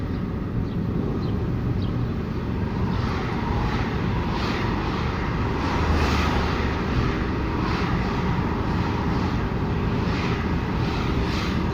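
Steady engine drone of a learner's car pulling away and accelerating during a driving lesson, a continuous close rumble with no talk over it.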